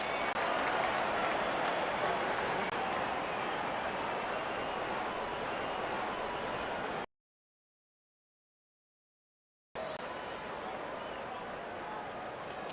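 A steady, dense roar of crowd applause and cheering fills a cricket video game stadium, loud and continuous, cutting to silence for a few seconds before resuming.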